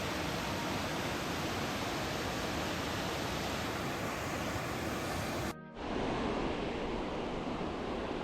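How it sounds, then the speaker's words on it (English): Drake Falls in Silver Falls State Park, Oregon, produces a steady, dense rushing roar heard close by, broken only by a brief dip near the end. "Waterfall number 5, Drake Falls."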